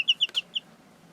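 A half Buff Orpington cross hen gives four quick, high clucks in a short rhythmic burst, close and fairly soft, with no voices over it.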